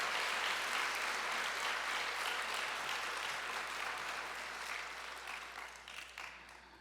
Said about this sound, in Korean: 우리 힘내라고 다시 한번 박수 쳐주세요.